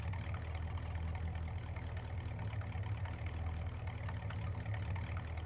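A tractor engine runs steadily in the farming game Farming Simulator 22, a constant low drone with no talking.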